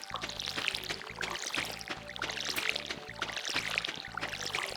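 A watering can pours on crops in Stardew Valley, a steady splashing under game music with a repeating beat, continuous and at even volume throughout.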